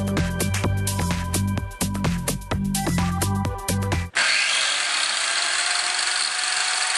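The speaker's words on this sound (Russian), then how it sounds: "углошлифовальная машина работает без проблем" An angle grinder fitted with a tile-cutting disc runs after its bearings were replaced, first a loud whining hum with rhythmic pulses, then a sudden switch to a harsh, even hiss that holds to the end.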